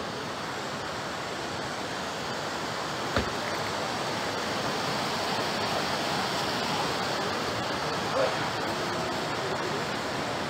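A river near a village rushes past with steady, broadband water noise that stays constant and fairly close throughout, with no clear voices over it.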